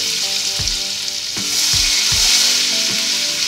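Crushed garlic fries in hot oil with bay leaves and dried red chillies, a steady close sizzle broken by regular stirring knocks and scrapes about every half second, with no talking.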